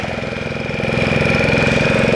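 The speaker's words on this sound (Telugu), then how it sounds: "వచ్చి పడవలు వస్తూ ఉన్నాయి అన్నమాట." A motorboat engine drones steadily as boats move through floodwater in the Konaseema region, loud and close with a constant low throbbing hum that swells slightly toward the end.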